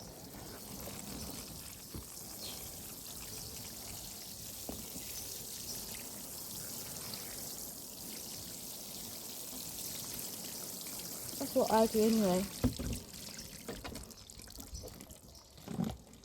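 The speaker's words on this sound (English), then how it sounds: "Time to water it." Water pours and trickles steadily onto soil in a raised garden planter, a continuous soft hiss with a few louder splashing bursts, and a person briefly speaks.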